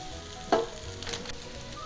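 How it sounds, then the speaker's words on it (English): Onion added to peppers frying in a pan for Hawaiian meatballs, with a sudden burst of loud sizzle as the onion hits the hot oil, then a steady crackling fry with a light stir. "we're adding our onion into the peppers because I don't like my onions super mushy either"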